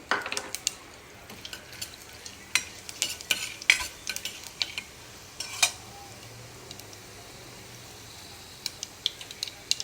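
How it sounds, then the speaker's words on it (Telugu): Tempering seeds popping and crackling in hot oil, scattered sharp pops in quick bursts over a faint hiss, close and fairly quiet. "ఆయిల్ దీంట్లో పోపు దించులు వేసుకున్నాం ఆయిల్ కాగింది"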